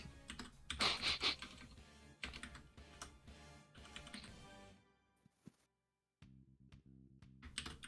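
Rapid, close typing on a computer keyboard in bursts with short pauses, fairly quiet, with soft music underneath and no talking.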